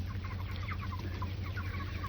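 Cornish Cross meat bird chickens clucking outdoors on a farm in the rain, a steady flock of soft overlapping clucks and murmurs over a constant low hiss of rainfall and background hum.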